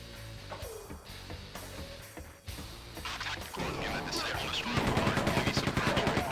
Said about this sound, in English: Let's gun down these fellas in the distance